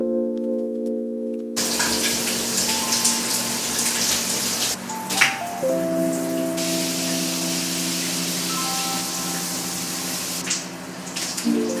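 Shower water runs steadily as a continuous broadband hiss with no talking, a low tonal hum sitting underneath.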